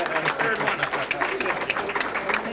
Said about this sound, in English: How about a big round of applause for all of these students?